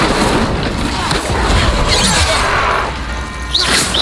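Incendio fire spell cast in Hogwarts Legacy, a roaring whoosh and crackling boom within dense game combat noise, with a voice speaking over it.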